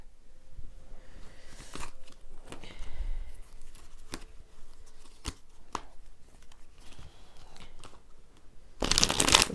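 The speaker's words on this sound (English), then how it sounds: "when I cut the cards in half." Tarot cards being cut and handled up close: soft papery shuffling, crisp clicks and snaps, and a louder burst of riffling at the very end, with no talking.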